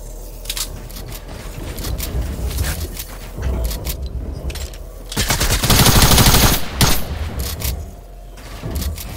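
Rapid bursts of Fortnite gunfire with loud, dense volleys and a sustained barrage in the middle, no talking.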